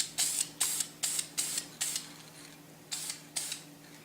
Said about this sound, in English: by just spraying over the white